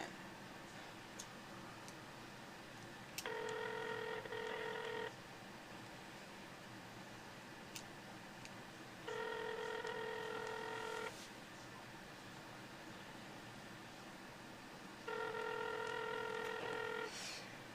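A phone line ringing at 3 a.m. with no one answering, three evenly spaced bursts of stacked electronic tones, each about two seconds long, separated by quiet gaps over low background hiss.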